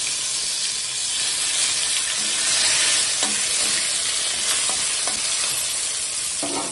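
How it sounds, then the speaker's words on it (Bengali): Chopped tomatoes fry in oil tempered with whole cumin seeds and chilli, a loud continuous sizzle with occasional stirring clinks and scrapes close by, no voices. "এবার এই ফোড়নের মধ্যে তেলের মধ্যেই আমি টমেটো কুচিগুলো দিয়ে দিচ্ছি।"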